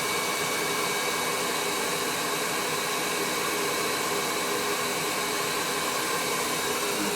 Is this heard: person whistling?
no